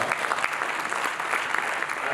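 Audience at a Nairobi marketers' night event clapping for themselves, a steady dense wash of applause from a full room, loud and continuous throughout.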